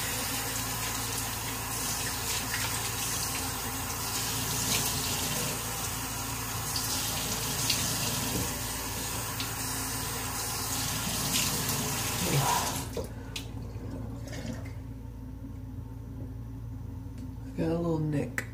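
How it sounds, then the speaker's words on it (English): A bathroom tap runs steadily into a sink as a man rinses his face with cold water after shaving, a loud continuous rushing stream that cuts off abruptly partway through, leaving quieter splashes and dripping. "Alright, let's rinse off in cold water."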